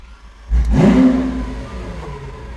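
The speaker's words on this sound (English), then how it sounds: "why don't we get in and have a listen to that new exhaust?" A 2017 Lamborghini Aventador S with a new exhaust fires up with a sudden loud bark and rev, then settles into a rumbling idle up close, with no one talking.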